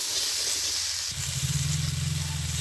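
Mixed vegetables frying in white oil in a wok give a loud, steady hiss close up, which shifts into a fuller, bubbling sizzle partway through and carries on without talk.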